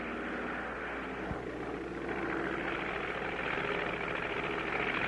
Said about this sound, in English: We're going to thread a needle with an airplane.